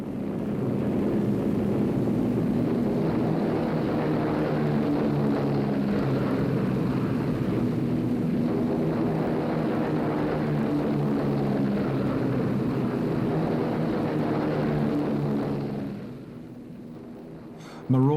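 B-17 Flying Fortress bombers flying in formation, a steady, dense drone of many propeller engines heard continuously, fading out near the end.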